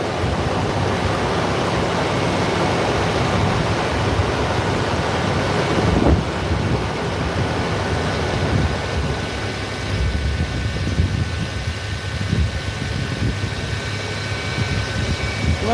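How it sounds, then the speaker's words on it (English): Power steering pump on a 2004 Toyota Tacoma whines as the steering wheel is turned left and right, a loud steady roar with a faint thin tonal whine running through it, no voices. "until we don't hear any more whining noise coming from the power steering pump"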